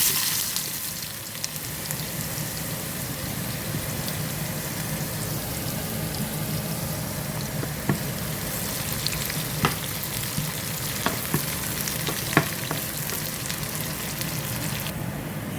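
Beetroot frying in a pan of hot oil, giving a steady, close sizzle throughout with a few sharper pops and spatters, and no voices.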